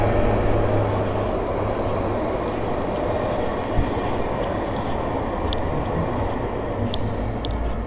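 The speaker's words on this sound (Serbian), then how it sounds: "pogledajte njihove tramvaje" Tram passing through the city streets of Dresden, a steady loud rolling rumble of wheels on rails with occasional faint metallic squeaks and clicks, no voices.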